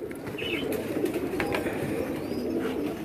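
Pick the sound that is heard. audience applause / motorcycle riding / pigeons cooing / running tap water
pigeons cooing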